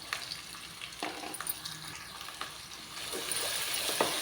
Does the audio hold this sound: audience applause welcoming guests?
no